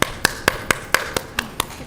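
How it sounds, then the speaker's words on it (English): A single person clapping alone at a school district board meeting: eight crisp, evenly spaced claps in a steady rhythm, close and distinct against a quiet room. "I don't even care if I'm clapping alone."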